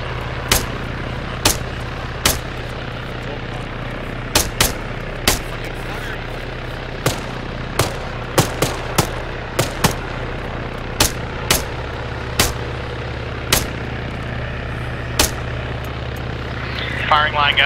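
Sharp, isolated gunshots crack out at irregular intervals over a steady low engine drone, loud and distinct in an Arma 3 video game battle near a helicopter.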